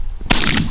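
A shotgun fires at ducks coming in over decoys, one loud close blast with a quick ringing tail outdoors.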